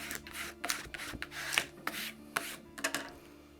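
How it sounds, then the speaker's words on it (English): A squeegee presses Oracal 651 vinyl onto a screen-printing screen in short, close rubbing strokes, an uneven series of scratchy swipes over a low background hum, with no talking. "I start applying it with the squeegee"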